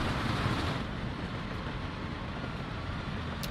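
A train running in the city-building game Workers & Resources: Soviet Republic, a steady low rumble with faint rhythmic clatter, moderately quiet and continuous with no talk.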